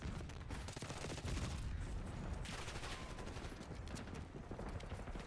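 GPR fire in the video game Black Ops 6 rattles out in dense, continuous bursts of automatic gunshots, loud and busy throughout, with other game noise mixed in.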